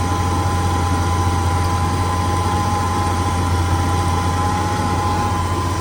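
An old motor that had not run in a quarter century idles fast with the idle screw all the way out, a steady, even drone with a constant low hum, loud and close throughout.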